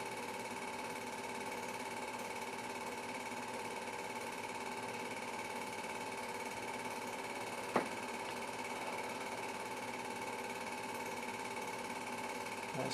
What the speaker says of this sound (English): vacuuming up all the bits and pieces from the cockpit